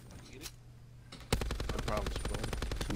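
Rapid automatic gunfire from Call of Duty: Black Ops 4 Blackout mode erupts after a brief quiet, a loud sustained burst of fast, evenly spaced shots rattling close by for nearly two seconds.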